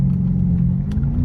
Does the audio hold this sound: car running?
yes